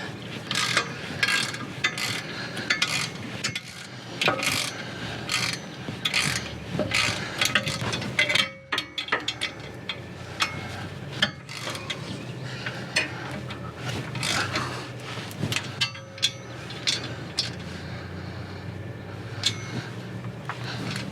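A ratchet wrench clicks steadily in repeated bursts, close up and alone with no talking, as it tightens steering stabilizer bolts on a Ford Super Duty truck during a Kelderman dual steering stabilizer install.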